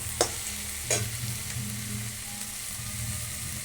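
Spinach stirred in a pan as it nears fully cooked, with two sharp scrapes of the utensil early on over a steady low sizzle and bubbling that runs throughout, no voices.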